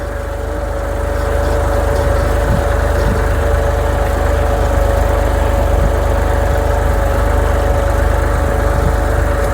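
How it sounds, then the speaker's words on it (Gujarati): A tractor engine idles steadily on a farm field during sowing, a loud, close, constant low rumble with a faint steady hum and no speech. "ટ્રેક્ટર આવેલું છે એકલું એકલું જો"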